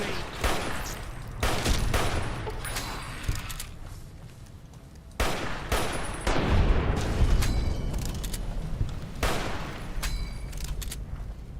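Repeated M1 Garand rifle shots in the video game Fallout New Vegas, loud sharp reports arriving in bursts with rumbling echo and a steady background hum, no talking.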